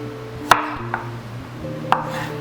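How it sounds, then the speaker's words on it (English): A knife slices through tough ginger on a cutting board, giving three crisp, close cuts with short pauses between them over a quiet background hum. "Ginger's quite tough, so you want to do this in slices, turn around, cut it the other way"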